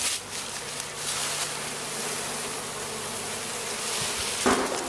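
Thousands of honey bees buzzing while being shaken into a hive, a dense continuous hum with a few soft knocks near the end and no talking.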